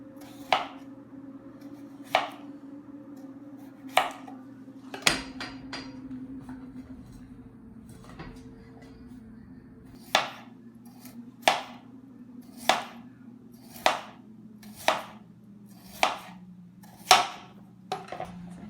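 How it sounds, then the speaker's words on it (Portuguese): Knife slicing potatoes into thin rounds on a cutting board: a series of crisp, evenly spaced chops, close and clear over a steady low kitchen hum, with a pause midway before the cuts resume. "As batatas são cortadas em rodelas finas."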